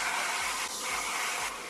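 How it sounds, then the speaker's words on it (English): A Gamma Plus intelligent energy-saving hairdryer runs steadily and loudly for the whole stretch, its broad airy whoosh holding an even level with a slight dip partway through, and no voices over it. "using your intelligent energy saving hairdryer by Gamma Plus"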